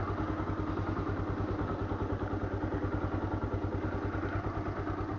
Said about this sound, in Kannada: ಗಾಡಿನೂ ಕೂಡ ಇಂಜಿನ್ ಆನ್ ಮಾಡಿಬಿಟ್ಟು ಸ್ವಲ್ಪ ಹೊತ್ತು ಬಿಟ್ಬಿಟ್ಟು ಒಂದು 30 ಸೆಕೆಂಡ್ ಸಾಕು